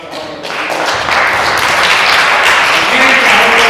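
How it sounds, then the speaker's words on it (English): Audience applause at a youth orchestra winter concert, starting thin and swelling into steady, dense clapping from a seated crowd that holds strong through the end. "can we give a round of applause to all"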